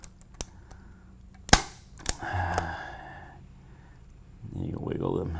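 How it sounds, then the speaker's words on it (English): A punch-down tool snaps wire into a Cat6 computer jack, several sharp close clicks with one loud snap, followed by faint rustling and a low murmur of handling. "how I'm going to punch down on this. It's going to hear that snap"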